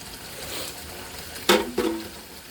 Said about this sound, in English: We strain them in a strainer.